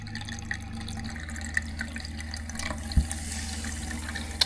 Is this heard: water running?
yes